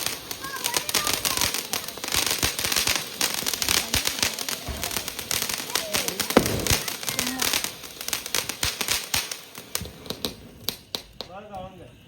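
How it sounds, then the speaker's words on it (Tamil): Diwali firecrackers burst in rapid, scattered pops and cracks throughout, mixed with crackling, while people talk and a bird chirps in the background. "வெடிச்சிடும் சத்தம் நல்லா"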